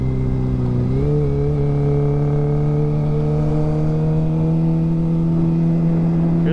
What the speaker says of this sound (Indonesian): Ada bocil juga nih lagi main motor cross nih